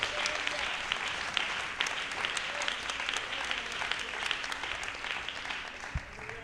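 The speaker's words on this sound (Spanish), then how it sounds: "Denle palmas a Cristo si puede" A church congregation claps together in a dense, steady round of applause that fills the room, with a faint murmur of voices underneath.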